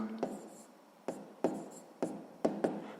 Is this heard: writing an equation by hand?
yes